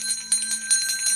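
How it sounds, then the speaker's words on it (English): A bell rung during a live online reading session, with repeated bright metallic strikes that ring on with sustained high overtones, fairly close and clear, no talking over it. "I'm going to give you the bell."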